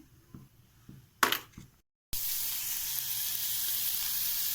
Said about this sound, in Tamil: இப்போ நான் கடுகு ஆட் பண்ணுறேன்